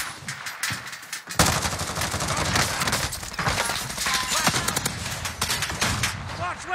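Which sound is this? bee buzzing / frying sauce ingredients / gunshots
gunshots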